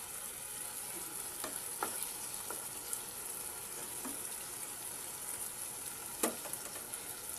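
Egg cooking in a pan with softened tomato and onion gives off a steady close sizzle, with a few sharp utensil clicks scattered through and no talking.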